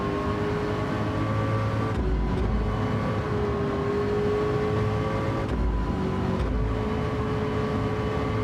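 Ferrari race car in Gran Turismo 7 during lobby racing, a loud sustained engine drone holding steady pitch, with two brief dips and low thumps around shifts or contact, no voices.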